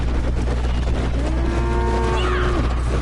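A long, drawn-out cow moo rises and holds over a steady rumble in a cattle stampede from a western video game, loud and close with a second, higher call at its tail.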